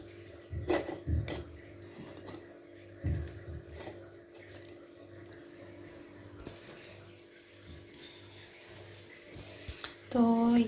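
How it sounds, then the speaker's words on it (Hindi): Spoon pressing cooked food against a metal pan to squeeze out excess ghee, giving soft scraping clinks and taps at irregular intervals, close by, with quiet kitchen background and a brighter metallic clatter at the end. "तो इसको मैं एक स्पून से इस तरह से दबा दूंगी, ताकि इसमें जो भी एक्स्ट्रा घी होगा ना वो निकल जाएगा अच्छे से।"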